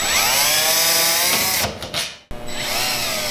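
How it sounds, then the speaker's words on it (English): A power drill backs screws out of a PizzaMaster pizza oven shell, its motor whining loud and close, slowing and cutting out briefly before spinning up again. "We're removing our screws."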